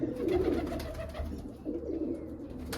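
Several pet pigeons inside a loft give low, throaty coos in a continuous overlapping murmur, near and moderately loud, with no voices present.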